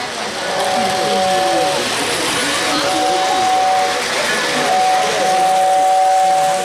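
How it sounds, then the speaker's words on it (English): A model train whistle sounds in repeated tones over steady rumbling and chatter, with voices talking nearby throughout. "that's the Great Crossing whistle"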